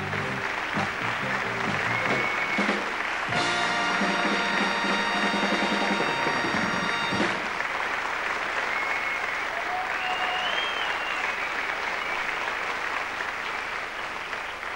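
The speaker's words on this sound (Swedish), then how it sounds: "Bravo! En applåd för de deltagande." Circus audience at Cirkus Scott applauding the performers, a dense continuous clatter of many hands filling the whole stretch, with a sustained musical chord sounding over it for a few seconds early on.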